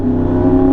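A Yamaha R1M motorcycle with a new SC Project exhaust revs briefly, giving a steady, loud, buzzing engine drone that rises slightly in pitch toward the end of less than a second.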